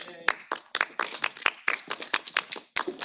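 An audience at a tech talk claps in a quick burst of individual sharp hand claps, close and uneven, with short pauses between clusters.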